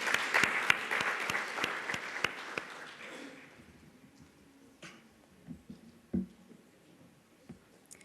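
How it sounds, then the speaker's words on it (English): An audience claps together, loud and sustained at first, then the applause thins out into a few scattered claps and fades away. "Round of applause, ladies and gentlemen."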